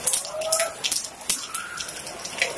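Heavy rain falls on an Islamic boarding school compound in Indonesia, a steady broadband patter of drops on surfaces with occasional sharper splashes, close and continuous, with faint voices in the background.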